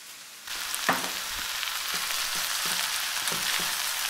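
Flat rice noodles and Mongolian tenderloin tossed in a hot pan, with a loud frying sizzle that starts abruptly and runs on steadily, plus repeated soft thumps and scrapes from the tossing.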